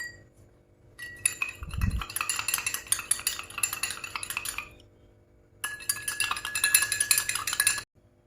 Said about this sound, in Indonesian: Aduk hingga homogen.